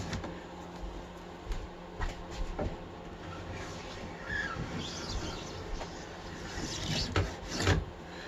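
Scraping wax out of the grooves and edges of a ski, a soft rasping scrape repeated in short strokes with light clicks, close but quiet, with faint bird chirps in the background.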